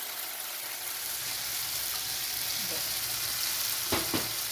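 Tomato masala frying in oil for Afghani chicken, a loud, dense, continuous sizzle close by, with a couple of brief stirring knocks near the end.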